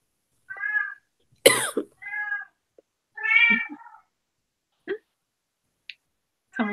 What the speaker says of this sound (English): Someone's got a very vocal kitty and it's amusing me.